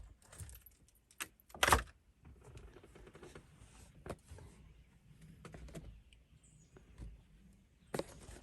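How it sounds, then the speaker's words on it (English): Car keys jangle as they are pulled from the ignition, a couple of sharp metallic rattles standing out over quiet rustling and small clicks inside the car, close and fairly faint overall. "Take the keys out so it doesn't run down the battery."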